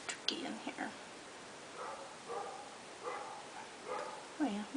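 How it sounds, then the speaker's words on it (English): Neighborhood dogs bark in a few faint, distant bursts spaced across the moment, heard quietly against a soft background. "you guys hear those neighbor dogs. Don't normally have barking dogs in my neighborhood."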